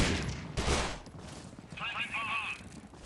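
Pistol shots ring out in Critical Ops, a mobile first-person shooter, during a regional tournament match: a sharp burst of gunfire early on, then quieter game sounds, with a commentator's voice running underneath.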